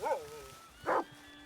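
A dog in a video game gives two short barks, a higher yip followed by a louder bark just under a second later, close and clear over quiet game ambience.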